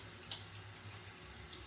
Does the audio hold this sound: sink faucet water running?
yes